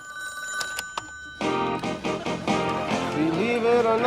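A telephone rings with a steady electronic tone, then a few clicks. A loud burst of music follows and continues to the end.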